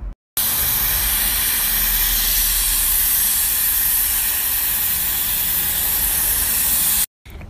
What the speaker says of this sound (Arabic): البخار اساس نشيل الصمغ هذا